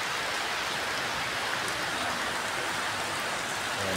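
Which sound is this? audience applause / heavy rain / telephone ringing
heavy rain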